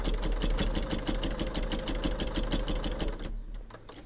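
A sewing machine runs a fast, even stitch along the fabric tail of Halloween bunting, then the rhythm cuts off abruptly near the end, leaving a brief quieter stretch.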